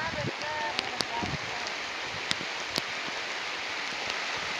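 Steady rain hiss from a heavy pre-monsoon downpour fills the clip, with occasional sharper drop ticks; a faint voice is briefly audible in the background.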